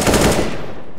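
Gunfire in Counter-Strike: Global Offensive during a competitive match, a quick loud burst of shots in the first half-second that then trails off into a fading reverberant tail.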